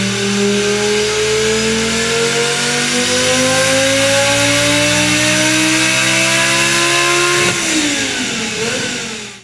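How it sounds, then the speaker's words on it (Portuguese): Fiat Marea Turbo's 2.0 five-cylinder engine revs loudly and steadily, its pitch climbing over several seconds before a sharp drop as the throttle lifts, then a brief blip near the end. "O ronco desse motor aqui é único, é exclusivo"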